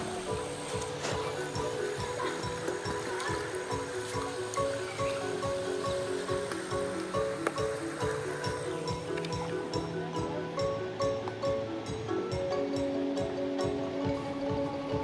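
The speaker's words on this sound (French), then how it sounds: "le bruit de l'eau, où on lave son linge et fait sa toilette," Continuous flowing water at a natural washing and bathing spot in the Guatemalan or Belizean jungle, with cascades and pools nearby, a steady close rushing wash that fills the whole stretch.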